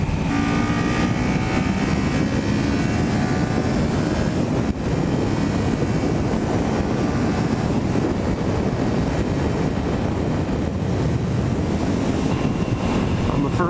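A 400 motorcycle engine running hard during a ride, its drone buried under heavy, steady wind rush across the microphone, loud and continuous throughout.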